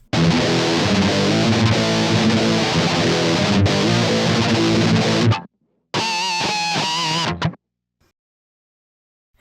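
Thrash-toned electric guitar through a distortion pedal such as a Digitech Death Metal, EHX Metal Muff or Boss DS-1, playing loud saturated riffs that stop suddenly, then a shorter burst of distorted chords before silence.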